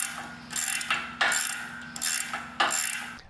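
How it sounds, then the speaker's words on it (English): A socket wrench ratchets on a bolt while a home gym power rack is assembled, giving loud, close bursts of rapid clicking in three or four quick back-and-forth strokes with no talking. "the socket wrench you can just move quickly up and down"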